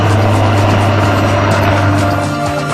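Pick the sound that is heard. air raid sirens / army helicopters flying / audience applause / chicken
army helicopters flying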